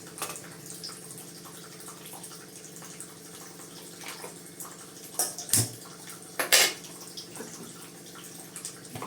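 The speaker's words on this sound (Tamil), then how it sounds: "பாருங்கள், நல்லெண்ணெய் விட்டுக்கிறேன்" Sesame oil is poured into a pan for pirandai thuvaiyal, a faint thin trickle that breaks into a couple of brief, louder splashy bursts.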